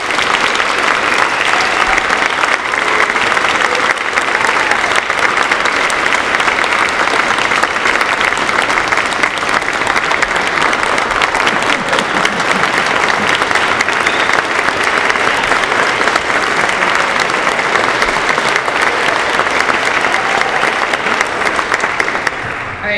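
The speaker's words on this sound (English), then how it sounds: "Can I have one more round of applause for all of our panelists?" An audience at a 2014 energy summit gives panelists a long, steady round of applause, dense and even clapping that fills the room for over twenty seconds without pause.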